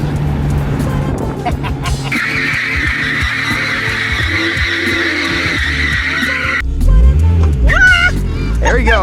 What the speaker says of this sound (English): a little burnout action, baby